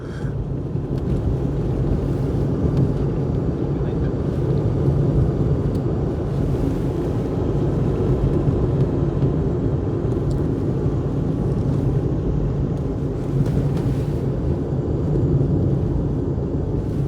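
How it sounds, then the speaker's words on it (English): A Proton 2025 car descends the Shelsley Walsh hill climb with the brakes held on, giving a steady, loud engine and road rumble with wind noise throughout, heard from close by inside the car. "I'm literally just riding the brake all the way down."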